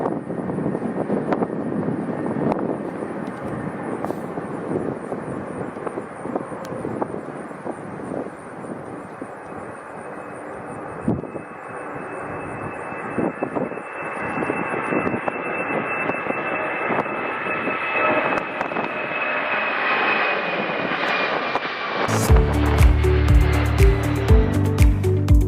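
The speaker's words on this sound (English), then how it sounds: "A Southwest Boeing 737 performs a go-around to avoid getting too close to a departing UPS" Southwest Boeing 737 performing a go-around near a departing UPS 767: a sustained jet engine roar building with a rising whine, growing louder and fuller near the end as the thrust swells.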